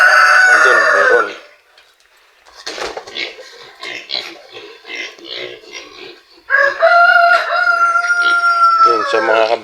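Free-range chickens on a backyard farm cluck in scattered bursts while roosters crow loudly nearby, one crow opening the scene and another rising near the end.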